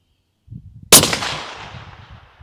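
A single loud MK22 sniper rifle shot: a sharp, close crack followed by a long echoing decay across open ground, preceded by faint low rumbling.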